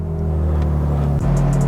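A BMW M3 Competition G80 engine runs close by with a deep, steady rumbling idle, then briefly dips and swells back up with a small blip of revs near the end.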